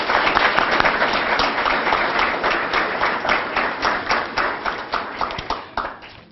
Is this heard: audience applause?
yes